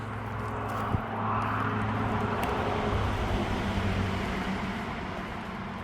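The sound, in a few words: road traffic noise near the Appalachian Trail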